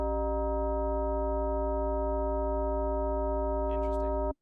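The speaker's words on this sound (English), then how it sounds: "We've got that sine wave." A synthesizer tone from Ableton Operator holds loud and constant, a layered steady pitch that stops abruptly at the end, with a brief voice heard over it just before the cutoff.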